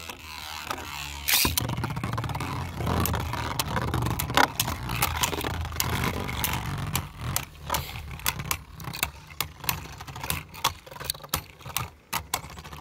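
Beyblade-style spinning tops named Garouda and Achilles clash and scrape in a battle arena, giving a steady metallic whirring broken by sharp clicks and impacts that grow choppier toward the end, with no talk.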